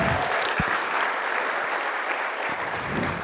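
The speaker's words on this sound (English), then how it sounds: "So let's give another round of applause for them." An audience gives a round of applause for participants in a community morning program, steady clapping from many people filling the room, with a couple of low thumps and no speech.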